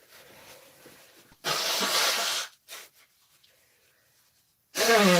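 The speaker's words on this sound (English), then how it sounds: "Sorry, I've got to blow my nose." A loud, wet nose blow bursts out, a couple of shorter snorts follow, then quiet, and another strong blow at the end.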